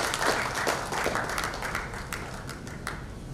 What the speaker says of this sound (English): please give a huge round of applause as I request her to kindly join us on the stage